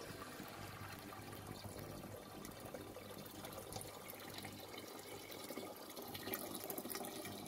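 Steady running water pours from a tap into a pot, 1.5 litres, a continuous rushing stream that swells slightly louder near the end.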